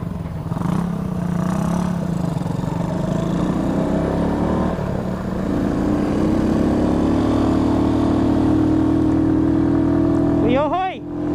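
Motorcycles, a Yamaha Sniper and a Rusi Flash 150 carrying a passenger, rev hard climbing uphill, a sustained engine drone that strains and rises in pitch, with a rider talking over the noise.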